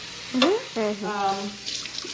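Hot tap water runs steadily while vegetables are scrubbed beneath it, close by, with a few short vocal sounds over the flow.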